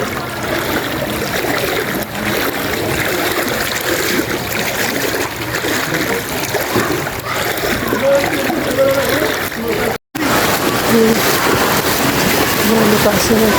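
Flood water rushes steadily and loudly near a coffee shop, a continuous roaring flow with splashing and voices talking over it, briefly cutting out for a moment.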